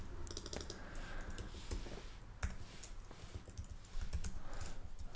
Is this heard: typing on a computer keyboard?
yes